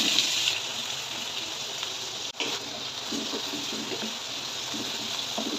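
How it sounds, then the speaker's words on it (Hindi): Potatoes drop into hot oil in a wok for aloo bhujia, setting off a steady, close sizzling hiss that briefly dips, then settles into continuous frying. "अब हम इसमें आलू डालेंगे।"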